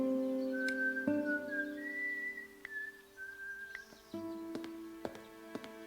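A character in the video game Broken Sword: The Serpent's Curse whistles Ave Maria, a clear melodic whistle carrying the slow, sustained tune over a soft musical backdrop, with sustained notes and a few short higher pips.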